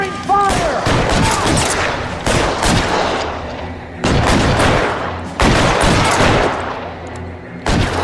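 Gunfire in the video game L.A. Noire: loud, dense bursts of shots in several long volleys separated by short gaps, with brief shouting near the start.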